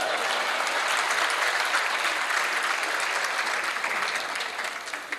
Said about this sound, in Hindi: ये हॉल तालियों से गूंजता रहेगा।